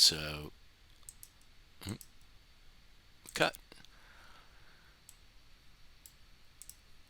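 Computer mouse clicking while laying out character UVs in 3D software: a few sharp, quiet, isolated clicks spaced seconds apart in an otherwise hushed room.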